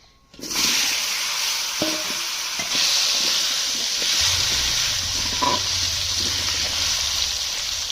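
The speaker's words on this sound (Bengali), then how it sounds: "আলুগুলো এই তেলের উপরে দেব দিয়ে ভেজে নেবো" Potatoes fry in oil with bay leaf and cumin, a loud continuous sizzle that starts abruptly as they hit the pan, with scattered stirring clacks and a low rumble joining partway through.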